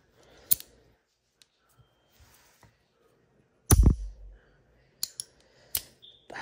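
A Crux Skill magnetic fidget toy by LaGrange snaps and clicks during a shuffle move, giving scattered sharp clacks with one heavier thud-like snap midway and quiet gaps between, close up with no talking.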